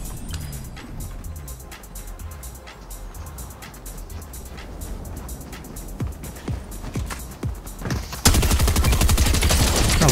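Submachine gun fire in Fortnite crackles in rapid, sharp bursts, near and loud, with intermittent volleys building into a dense, sustained barrage at the close, and no talking.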